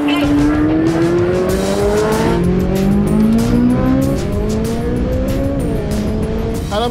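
A Tesla Cybertruck Cyberbeast and a Corvette Z06 launch off the line in a drag race, with a loud steadily rising engine and motor whine climbing in pitch over roaring road and tire noise, and a voice talks over it.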